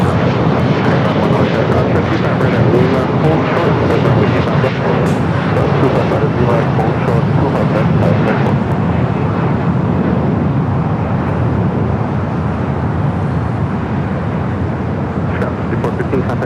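Aircraft crossing on taxiway Lima at Los Angeles International Airport produces a steady, loud, broadband jet rumble that fills the whole stretch without a break, heard close by.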